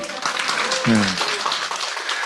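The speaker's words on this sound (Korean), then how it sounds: "박수 한번" An audience at an Amway business meeting in Gangseo gives a short burst of steady, even applause, with a voice speaking briefly over it.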